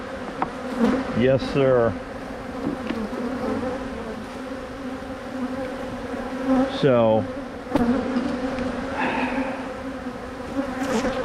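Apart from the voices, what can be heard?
honey bees buzzing around the hive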